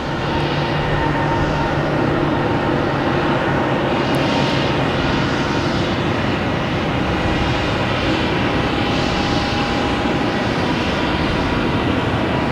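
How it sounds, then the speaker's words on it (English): A British Airways airliner takes off at Boston Logan Airport, its engines a steady, loud broadband roar that holds throughout with slow swells in intensity and no voices. "Oh, and we have British Airways. I didn't even see that take off."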